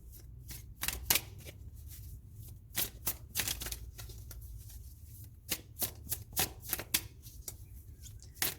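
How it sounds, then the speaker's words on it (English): A deck of tarot cards is shuffled by hand, a quiet irregular series of crisp riffling and snapping bursts close by over a faint low background hum. "I just seriously went into another world right then while I was shuffling"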